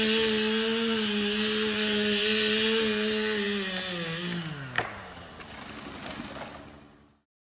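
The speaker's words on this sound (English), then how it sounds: "these trees you see between me and my dad right here will have to be cut down with a chainsaw" A chainsaw drones steadily at high revs, then its pitch drops as it bogs into a tree trunk in a swamp clearing, followed by a sharp crack and the engine winding down.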